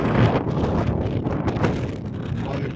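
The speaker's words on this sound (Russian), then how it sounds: "ветер туда уносит в сторону моря" Strong, gusty February wind blows on a sandy Black Sea beach at Anapa, roaring steadily and loudly across the microphone with sand blowing along the ground.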